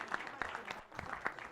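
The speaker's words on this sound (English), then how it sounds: "let's all give ourselves a round of applause for being here" An audience applauds at a leadership colloquium, with steady clapping through the whole moment and a few sharper claps standing out. Voices blend in underneath.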